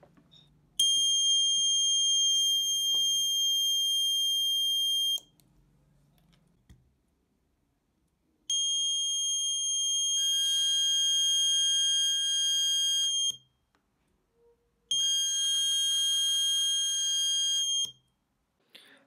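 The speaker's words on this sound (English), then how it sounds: "So I used a buzzer as a load and tested both circuits." An electronic buzzer used as the load in a short circuit protection circuit sounds three times, each a loud shrill steady tone lasting several seconds, separated by quiet gaps.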